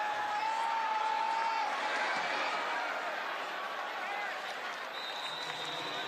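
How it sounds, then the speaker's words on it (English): A home football crowd at an Arizona State stadium murmurs as a steady, subdued roar throughout, with no big cheer, heard from broadcast distance. "Take a listen to this crowd."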